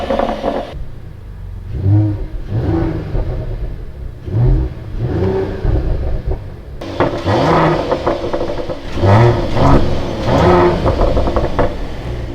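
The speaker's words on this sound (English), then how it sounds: "the sound of this 3-liter 6-cylinder is amazing, especially with the AMG Performance exhaust" A Mercedes-AMG 3-liter six-cylinder with AMG Performance exhaust revs repeatedly, loud rising and falling blips in a steady rhythm, growing fuller and crisper about halfway through.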